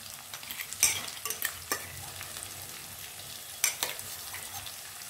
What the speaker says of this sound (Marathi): आता हे छान आपल्याला मंद गॅसवर परतून घ्यायचं आहे